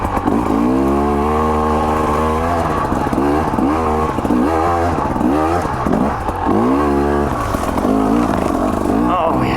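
Loud, close 2024 KTM 300 XC W dirt bike engine on a wet morning ride, revving in repeated rising sweeps with brief dips as the rider shifts up into second gear, the engine note continuous and strong throughout.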